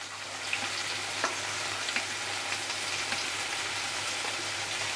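Ginger paste sizzles steadily as it fries in a pan while a masala pomfret fish dish is being prepared, with a dense close hiss broken by a few small crackles and pops.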